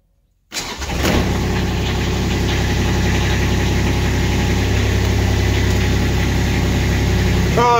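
A Kubota RTV X1100C utility vehicle's diesel engine cranks after the glow plugs heat and catches quickly, then settles into a steady, loud, close idle with a low rumble that carries on to the end.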